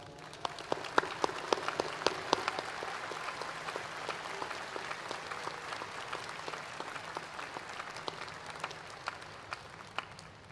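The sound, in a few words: audience applause for faculty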